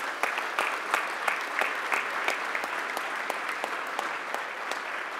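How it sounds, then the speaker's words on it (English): Audience at a gala applauds steadily with dense, even clapping throughout, moderately near and unbroken by talk. "A round of applause for everyone."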